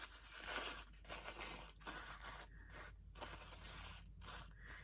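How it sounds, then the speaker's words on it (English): Tissue paper crumpled by hand for a card-making technique gives steady, close crackling and rustling in repeated bursts with brief pauses, quiet and without any voice. "I'm going to do the crumpled tissue technique on here. So I crumple it up."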